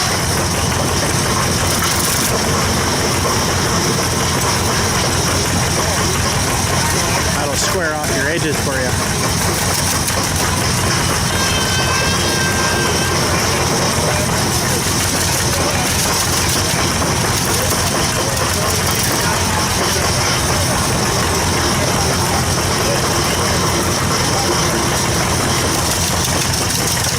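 A Jubilee tractor engine powering a shingle mill at an antique steam show runs steadily and loudly for the whole stretch, a constant mechanical drone with no break.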